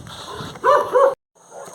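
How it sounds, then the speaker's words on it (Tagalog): A dog barks twice in quick succession, loud and close, during a barefoot road run, over steady outdoor background noise; the sound cuts out briefly afterward. "Oops! Aso."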